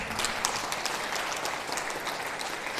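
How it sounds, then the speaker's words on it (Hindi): A church congregation at a residential retreat claps together in steady, dense applause for a member, filling the room evenly without speech. "क्या हम हमारी मरियम बहन के लिए ताली देंगे?"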